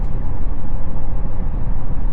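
Exhaust brake engaged on a 2025 Chevy Silverado 2500 ZR2 diesel truck, a loud, close, continuous low rumble with a rough pulsing texture.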